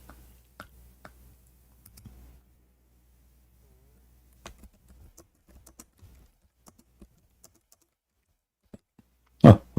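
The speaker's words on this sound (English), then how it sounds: "Oh, we are typing" Computer keyboard typing, sparse clicks and taps spaced irregularly in a quiet room, ending with a louder clack.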